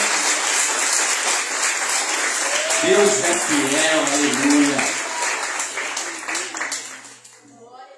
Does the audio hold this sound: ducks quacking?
no